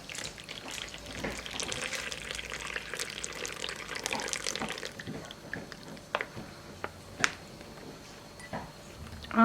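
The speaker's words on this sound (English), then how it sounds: "you're just going to funnel in your water" Water pours steadily through a funnel into a Mylar bag, a close continuous splashing rush that thins to sparse trickles and drips in the second half, with no talk.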